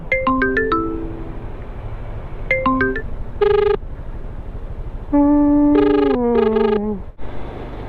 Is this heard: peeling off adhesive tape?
no